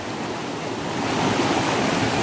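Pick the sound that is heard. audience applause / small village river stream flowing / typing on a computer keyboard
small village river stream flowing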